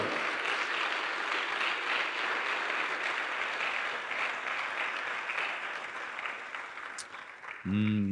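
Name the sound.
congregation clapping loudly for the Lord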